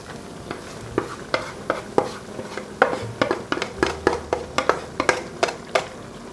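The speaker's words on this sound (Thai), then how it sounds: "คนให้เข้ากัน" A spoon stirs clear Thai suki soup in a pot, with a steady run of quick scraping and clinking strokes, close and fairly loud, with no talking.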